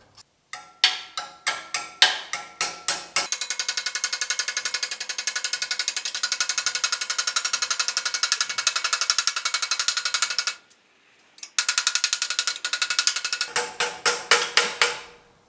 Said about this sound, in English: I can always clamp this up and tap it with a hammer to get a nice radius.